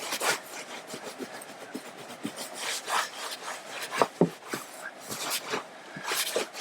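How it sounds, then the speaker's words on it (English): A microfiber towel scrubs a damp car seat in quick back-and-forth strokes, a close, uneven rubbing and rasping with no voices. "while the seat is still a little bit damp, you can scrub it with the microfiber towel"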